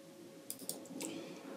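A few soft, close key clicks from typing a password on a computer keyboard, scattered over quiet room hum with no talk.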